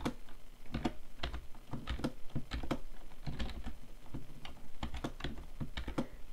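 Someone types a formula on a computer keyboard, a steady run of close, quick key clicks and taps with no talking.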